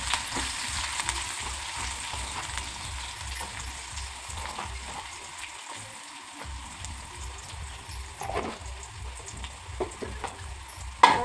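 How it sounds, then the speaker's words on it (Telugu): Cumin seeds and green chillies crackling in hot oil, a soft continuous sizzle with scattered light pops and a low rhythmic hum underneath, fairly quiet and with no talk. "ఫ్రై చేయండి"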